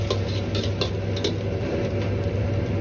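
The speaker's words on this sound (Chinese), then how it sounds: "继续翻炒几下" Tofu being stir-fried in a wok with scallion, ginger and chili bean paste, a metal spatula clanking and scraping against the pan in quick repeated strokes over a steady low background hum.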